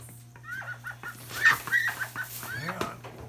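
Injured female duck in pain, giving a rapid run of harsh, strained quacks and squawks close by, uneven and agitated, with low background hum and no talk.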